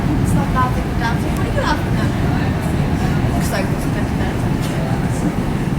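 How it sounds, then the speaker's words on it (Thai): A loud, steady low rumble of a train entering a tunnel on the coast near Greystones, Ireland, holding constant throughout, with faint higher clatter and murmuring voices mixed in. "เดี๋ยวรถไฟก็จะเข้าถ้ำ"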